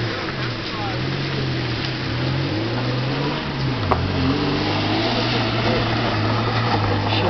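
A 4WD vehicle drives along with a droning engine that rises and dips in pitch as it revs, heard steadily over rough wind-blown background.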